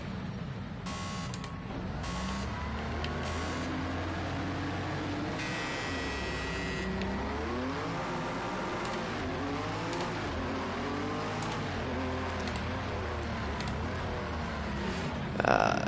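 A Le Mans racing video game race car with ground effect and no power steering roars continuously, its engine revving up and down through gear changes over a steady loud drone, with occasional sharp mechanical clatters.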